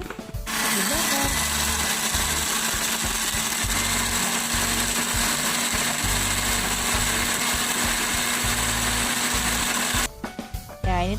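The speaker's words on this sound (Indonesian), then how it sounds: "lalu di blender" A blender blending a fish mixture for fish meatballs runs loudly and steadily for about ten seconds, a constant whirring motor roar, then cuts off abruptly near the end.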